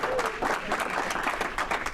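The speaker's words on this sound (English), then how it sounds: "Let's have a round of applause for the wedding in Boston" A Rotary club meeting audience claps in a dense, steady round of applause, loud and continuous for the whole span.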